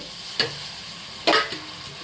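Fresh field beans fry in oil with mutton and greens under a constant soft sizzle, broken by two sharp scraping stirs of a spoon against the pan.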